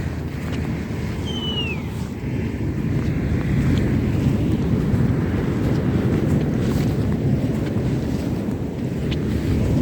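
Strong wind and rough sea surf roll continuously along a deserted, dangerous stretch of seashore, a loud, dense roar with gusty buffeting on the microphone and no voices.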